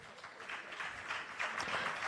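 An audience at a business forum on corporate social responsibility claps steadily as a speaker walks to the stage, a dense, even patter of many hands with no voices over it.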